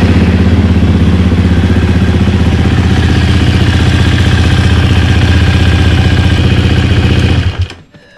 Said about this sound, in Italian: si accende la moto